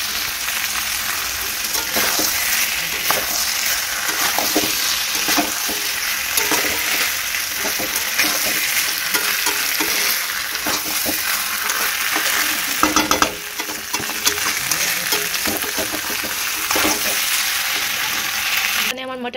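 Mutton in oil with potatoes and whole garlic, slow-fried and stirred in a pot for a spicy red curry: a loud, continuous sizzle with repeated spoon scrapes and stirring knocks, all close up and without voices.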